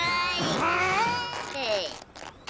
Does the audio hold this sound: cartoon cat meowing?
yes